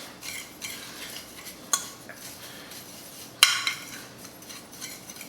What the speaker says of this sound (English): We'll give this a mix.